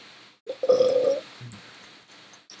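A single short burp follows a cup of Coke, a brief croaky belch of under a second that stands alone in near silence, with a couple of faint clicks after it.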